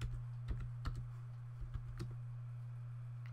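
Faint, sparse typing on a computer keyboard, a handful of soft irregular key clicks over a constant low electrical hum, tapering off to quiet.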